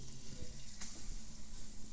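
A paratha topped with egg and chilli fries in oil over medium heat, giving a soft, steady low sizzle with one brief sharper crackle, quiet and close.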